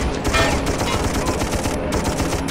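Rapid sustained gunfire from a machine gun in the video game Darkest of Days, dense bursts of shots close and loud over continuous battle noise.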